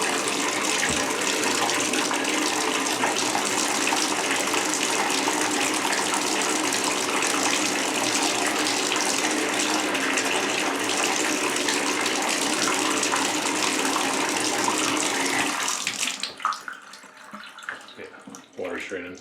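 Water gushes steadily from a tap into a tub to flush a slow bathtub drain, a continuous loud rush that cuts off abruptly near the end, leaving faint drips and trickles.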